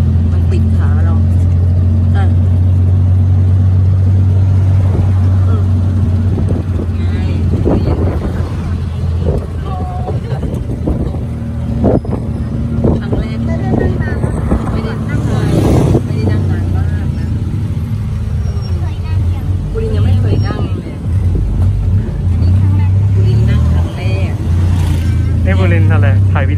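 Passengers riding in a Thai tuk-tuk (auto rickshaw), its engine droning loud and steady underneath with wind rushing past the microphone, while people chat over the noise throughout.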